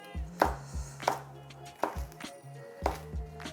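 A knife slicing a jalapeno on a cutting board: several sharp, close chopping knocks in an uneven rhythm, each a quick thud against the board, with quiet pauses between and no talking.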